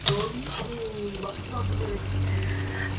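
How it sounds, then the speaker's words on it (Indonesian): Boiled banana blossom is rinsed under a running kitchen tap, the water splashing steadily and growing louder partway through, with a voice talking over it at the start. "Aku biasa mencucinya dulu di air mengalir setelah tadi direbus."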